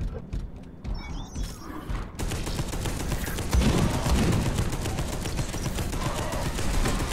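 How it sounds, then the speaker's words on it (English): Rapid gunfire in the video game Space Hulk: Deathwing, with a few scattered shots first and then a dense, continuous rattle of weapons that stays loud and steady for several seconds. "Oh, so you can still shoot and..."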